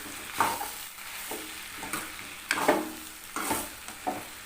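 A vegetable stir-fry with grated coconut sizzles in a pan, punctuated by repeated scraping stirs and tossing sounds at a moderate, close level.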